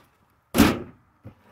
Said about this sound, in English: I need to close the door very quickly.